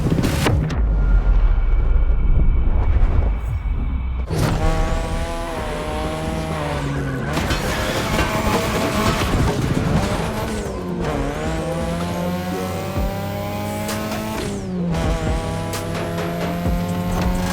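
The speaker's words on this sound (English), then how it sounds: "Tonight, your ride is a 3rd Gen 2002 Mazda RX-7." Video-game 3rd Gen 2002 Mazda RX-7 with a loud, revving engine whose pitch climbs and drops through gear shifts, tires squealing in bursts over a steady roar with no talking.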